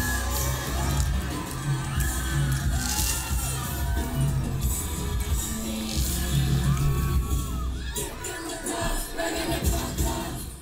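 A large Coachella festival crowd cheers, screams and sings along to a song, a dense roar of many voices mixed with the loud live performance.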